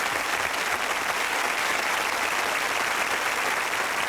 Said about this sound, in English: How about a round of applause for the world's fastest court reporter.